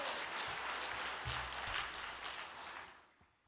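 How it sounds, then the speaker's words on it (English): Applause from an audience, a dense patter of clapping that swells briefly and then fades out toward the end. "Let us offer another big round of applause to President Lee Ki-sung for giving us grace"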